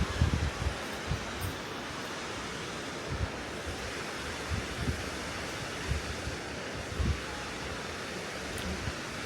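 Strong wind buffeting a hanging bridge in the Black Forest, Germany: a constant loud rushing roar with gusty low rumbles against the microphone, no voices.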